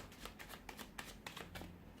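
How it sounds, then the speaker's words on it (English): Tarot cards are shuffled close up, giving a quick run of soft riffling snaps and flutters in uneven bursts, quiet and alone. "We'll give the cards a shuffle and see what they predict for you this coming month."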